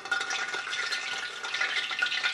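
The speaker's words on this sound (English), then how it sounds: "as it heats up, it'll crackle and pop" Cooking oil heating in a pan before frying pork chops, a dense bright crackle and popping sizzle that runs continuously, close and fairly loud.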